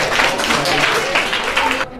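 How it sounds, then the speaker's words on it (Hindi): Children in a classroom at a study and coaching centre clap together in a steady burst of applause that stops abruptly near the end, with some voices mixed in. "जोरदार तालियां बजाइए बच्चों के लिए"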